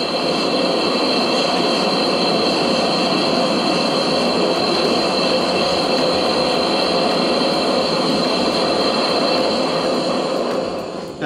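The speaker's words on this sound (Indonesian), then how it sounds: "Seperti ini ya, nyala apinya dan cukup gede juga menggunakan Rangia gas burner ini." A Trangia gas burner on a Trangia Storm Cooker 25-4 UL/GB, fed from a gas canister, roars with a large, steady flame, a loud continuous hiss that fades slightly at the very end.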